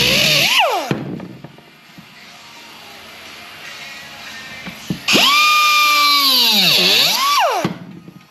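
A power tool whines and grinds against metal in two bursts, with a quieter rough scraping stretch between them; loud and close, working on a chopped 1936 Ford roof.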